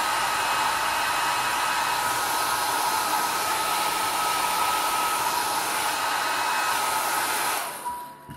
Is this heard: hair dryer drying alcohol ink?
yes